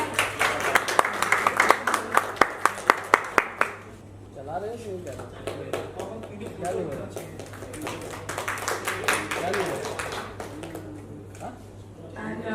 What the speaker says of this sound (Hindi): एक बार इनके लिए डबल तालियां